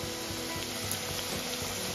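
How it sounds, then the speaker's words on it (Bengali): Sliced onions with a spoonful of sugar fry in hot oil in a pan for a Bengali mutton kosha, giving a steady, even sizzle with faint stirring scrapes underneath. "এই পেঁয়াজটা লাল করে ভেজে নেব।"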